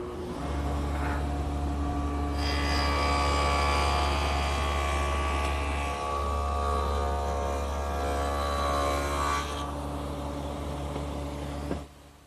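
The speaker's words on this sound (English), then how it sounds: "I've now installed the stacked dado head cutter in the table saw." A table saw fitted with a stacked dado head cutter runs steadily with a loud, constant motor hum, cutting dadoes for a wooden coffee table. A harsher, louder cutting stretch fills the middle before the blade spins on alone.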